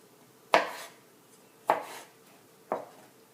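A knife slices through large gherkins lengthwise on a board in three distinct, evenly spaced cuts, each a crisp close thunk with a short fading tail, in a quiet kitchen.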